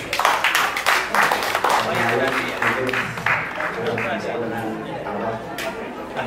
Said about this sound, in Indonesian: tepuk tangan buat Bunda Mary